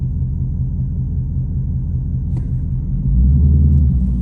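A 2024 Mustang GT with a Corsa Xtreme cat-back exhaust and catless long-tube headers, in sport mode, gives a steady low rumble under moderate throttle that deepens and swells louder near the end, with no talking.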